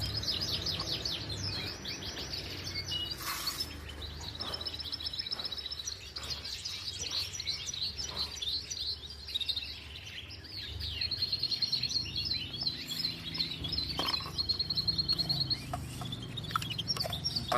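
Hybrid canaries sing in a series of rapid, high trills and chirps with brief pauses, close and fairly loud, over a low background hum.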